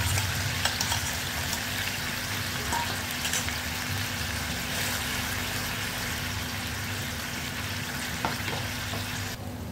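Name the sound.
masala spice paste frying in oil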